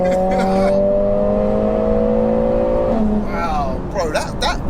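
A tuned 500 bhp Mercedes A45S launching hard in race mode, engine note climbing loud and close through the gears with a brief shift break, then a voice speaking briefly near the end.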